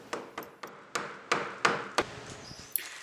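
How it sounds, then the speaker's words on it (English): A hammer taps a round bar into wood in about nine sharp, close strikes at an uneven pace, each hit ringing briefly before the next. "I tapped that in with a hammer."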